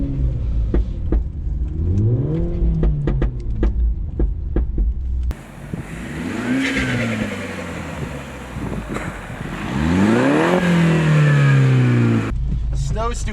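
A front-wheel-drive Mini Cooper S engine revs up and down repeatedly while doing reverse snow donuts, with rising and falling engine pitch sweeps, close and loud under wind noise, with people talking over it.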